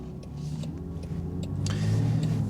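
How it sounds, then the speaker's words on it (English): Engine of a 2021 Land Rover Defender from inside the cabin, a steady mid-pitched hum that rises as the turbos spool, with a faint airy rush toward the end. "I actually get a kick out of hearing the turbos spool up. You actually hear the blow-off noise"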